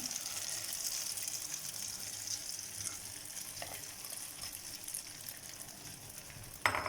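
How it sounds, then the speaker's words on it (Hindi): Egg omelette mixture poured into hot ghee in a pan, giving a faint, continuous crackling sizzle throughout, with a small clatter near the end. "घी गरम हो गया है। अब इस मिक्सचर को डालते हैं।"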